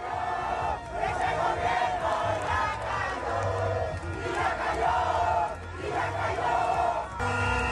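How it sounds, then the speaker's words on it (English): A large crowd shouts and cheers together in rising and falling waves, loud and continuous, with chanting swells and steady low music beneath. "Look at the crowd."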